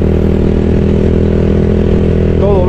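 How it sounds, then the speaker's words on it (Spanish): A BMW motorcycle rides a green country road in El Salvador, its engine a loud, steady drone with wind rush that holds throughout and lifts slightly near the end. "agarré la moto"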